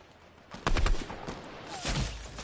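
A video game firefight plays out with a loud close gunshot burst followed by a further volley of rapid shots, sharp cracks standing over background game noise.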